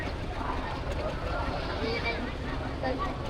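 Boats moving along the Ganges river at Varanasi, with a steady wash of water, wind and distant boat noise, and people talking throughout.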